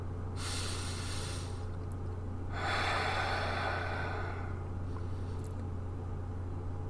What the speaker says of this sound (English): Just take a deep breath with me.